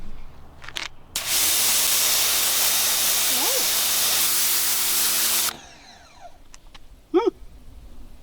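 An electric pressure washer sprays water in a loud, steady hiss lasting about four seconds, framed by quieter handling noises before and after and a short voice-like sound near the end.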